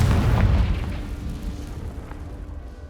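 A Confringo spell explodes in the Hogwarts Legacy video game as a single deep, booming blast that is already ringing out and decays into a low rumbling tail.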